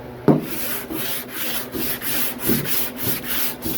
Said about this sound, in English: Now it's time to block it down with 80 grit again, using the block, final block here.